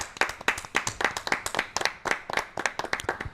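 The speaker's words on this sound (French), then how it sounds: "oui on peut l'applaudir" Studio audience on a TV set for a car and motorbike show applauds as a guest walks on, with a brisk run of claps, steady and fairly close, and no talking over it.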